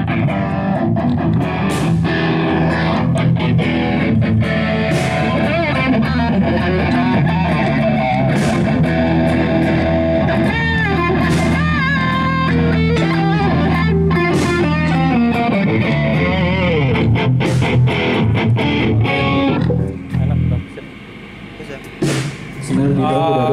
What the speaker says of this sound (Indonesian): Jadi itu dari booster, ini distorsi.